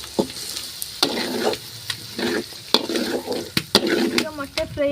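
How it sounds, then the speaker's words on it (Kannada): Four eggs fry in a pan for restaurant-style chicken fried rice, a moderate sizzle punctuated by sharp spatula scrapes and stirring strokes at irregular intervals, close by. "4 ಮೊಟ್ಟೆನ ಫ್ರೈ ಮಾಡ್ಕೊತಾ ಇದ್ದೀನಿ."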